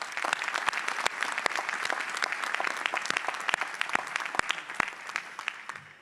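A round of applause for family and friends at a Hult San Francisco graduation ceremony, with many distinct sharp claps over a dense crowd patter that tapers off toward the end.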